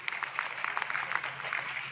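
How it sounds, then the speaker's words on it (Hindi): Audience clapping at a Modicare business event, a steady dense wash of many hands held at moderate level for the full two seconds, without voices over it. "एक बार जोरदार तालियां उनके लिए"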